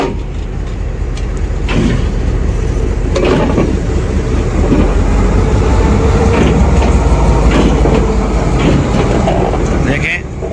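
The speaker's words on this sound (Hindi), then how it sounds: "अब ये लोकोमोटिव ये देखें आप प्रॉपर लाइन पे आ रहा है।" A locomotive rolling onto the line at a junction with a turntable, its low rumble and rail clatter steady and loud throughout, with intermittent clanks and someone talking over it.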